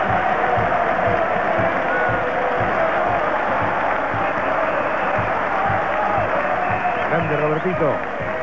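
Stadium crowd at a 1993 Vélez Clausura championship football celebration gives a sustained ovation for the captain, Roberto Luis Trotta: a dense, continuous roar of cheering and applause that never lets up, with a commentator talking over it.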